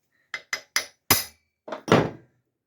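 Hammer blows on a centre punch against metal during a Ford Escort MK1 engine mount fabrication: six sharp, close strikes, three quick light taps and then three heavier hits with brief ringing, separated by silence.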